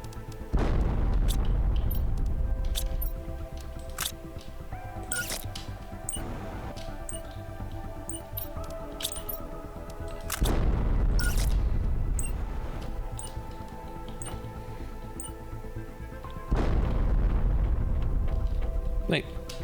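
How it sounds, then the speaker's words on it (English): Explosions blow up robots in the Planet Crafter video game, three heavy booms spaced several seconds apart, each with a long rumbling tail beneath steady game music. "Sentinel Corp want us to blow up these robots. You don't need special explosions for these"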